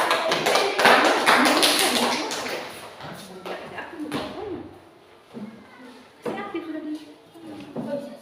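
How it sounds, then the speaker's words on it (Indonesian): A classroom group applauds a student, a burst of many hands clapping that swells in the first seconds and then thins out, with voices chattering over the later part. "Ya, tepuk tangan dulu untuk dia."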